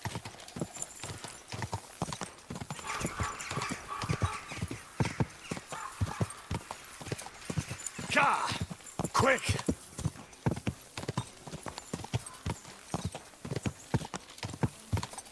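A horse gallops in Kingdom Come Deliverance II, its hooves drumming in a fast, steady clip-clop that runs the whole way through. Someone shouts briefly over the hoofbeats.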